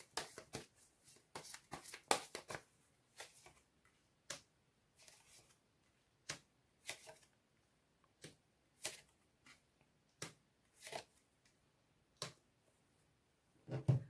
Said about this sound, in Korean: 주별 자세한 조언의 메시지 카드 한번 뽑아보도록 할게요